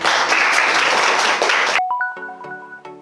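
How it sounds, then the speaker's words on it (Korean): Dense audience applause from a crowd at a self-improvement lecture, loud and steady for under two seconds, then cut off abruptly and followed by a bright chime-like jingle. "다시 한번 고생한 나 자신에게 박수 한번 부탁드립니다"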